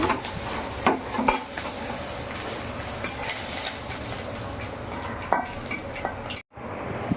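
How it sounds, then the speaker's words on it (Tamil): Spices for sambar tempering sizzle and crackle in hot oil, a steady dense hiss with a few sharp pan clinks and pops, ending abruptly in a brief silence. "தாளிப்பு போட்டாச்சு சாம்பாருக்கு"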